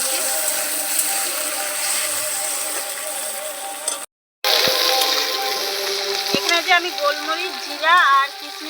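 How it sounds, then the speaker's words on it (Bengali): Tomato added to onions frying in a pan for a cauliflower and egg dish, a steady sizzle broken by a short pause, then a louder hiss with scraping stirs. "পেঁয়াজটা ভালো করে ভেজে নিয়েছি এবারে দিয়ে দেবো টমেটো"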